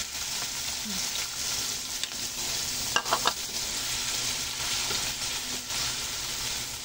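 Chopped onion sautés with garlic in a hot pan, sizzling steadily at a loud, even level with a few brief stirring scrapes partway through.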